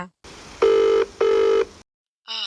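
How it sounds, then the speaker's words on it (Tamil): A telephone ringing out when someone calls their mother: two loud, evenly spaced electronic rings, close and clear, followed by a short tonal beep. "நீங்கள் உடனே உங்கள் அம்மாவுக்கு ஃபோன் பண்ணுறீங்க"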